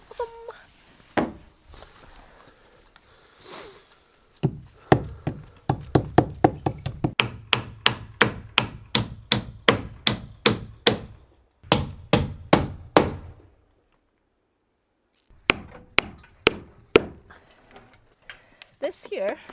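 Repeated hammer blows on the edge of a wooden beam during a cabin build, a steady run of sharp close strikes with brief pauses and a few final taps, with people talking briefly before.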